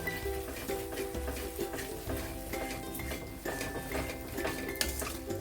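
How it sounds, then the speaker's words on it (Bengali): Ground cumin is being stirred in a pan for a cauliflower roast. A utensil scrapes and clinks against the metal without a break, over a faint sizzle, close up and with no talk. "এক চামচের মতো জিরের গুঁড়ি দিলাম দিয়ে এবার ভালো করে কষিয়ে নেবো"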